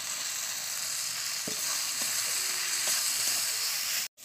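Fried potato pieces sizzle steadily in hot oil and cooked-down spice masala, a continuous hiss with a few soft stirring clicks, ending in a brief cutoff near the close; no talking.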